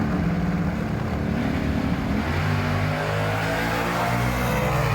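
A Chevy Nova wagon race car roars at Mooresville Raceway, a little eighth-mile track, its engine droning loud and steady with rising revs throughout and no talk over it.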